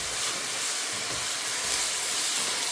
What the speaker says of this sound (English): We're just looking to really brown the sausage.